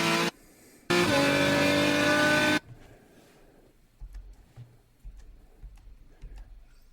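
A car on the Utah Motorsports Campus track roars loudly at speed in two brief engine bursts, then drops to a quiet cabin hum with soft low thumps and ticks.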